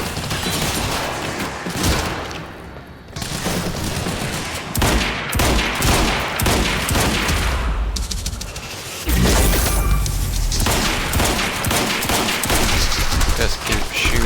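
Sustained gunfire in the video game Quantum Break, dense rattling bursts and crashing impacts almost without pause, loud and close, with brief breaks before the shooting resumes.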